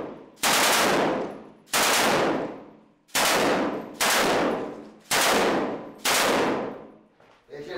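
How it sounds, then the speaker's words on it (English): Heavy artillery fires six loud, booming rounds at a munitions van in a Syrian combat zone, each blast striking sharply and then rolling away over roughly a second, spaced unevenly. "So they decide to destroy the van with the help of this heavy artillery."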